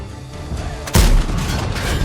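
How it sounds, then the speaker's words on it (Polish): A tank gun in a World of Tanks–style battle, fired blind toward an enemy position, goes off in a single sharp, heavy boom that cuts through the steady background engine rumble. "strzelam go na ślepo tam skąd leciały pociski na znaczniku"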